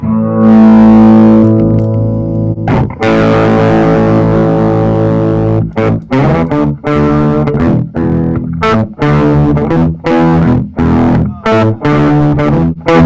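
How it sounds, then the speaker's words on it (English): Distorted guitar chords through a polyphonic octave-down pitch shifter pedal, giving a thick doubled sound, played loud and alone, with sustained notes followed by choppy, rhythmic strums. "we're able to get like an octave down tracking, like kind of like a double track kind of sound"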